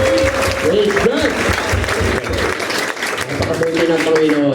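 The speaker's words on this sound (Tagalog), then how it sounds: "At bigyan nga po natin ang palakpak na malakas ang ating Panginoon" A church congregation at a homecoming gathering applauds loudly and continuously, with voices calling out over the dense clapping.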